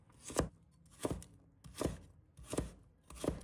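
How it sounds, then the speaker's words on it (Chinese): Knife chopping a piece of carrot into small dice on a board, five evenly spaced crisp chops about two-thirds of a second apart, close and clear with no talking. "再准备一小段胡萝卜，把它切成小粒。"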